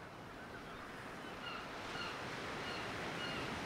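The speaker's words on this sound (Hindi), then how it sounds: "लहरें आ रही हैं, पत्थरों से टकरा रही हैं" Sea waves break against rocks on a shore, heard as a steady, moderately distant wash of surf that grows slightly stronger toward the end, with wind noise mixed in and no talking.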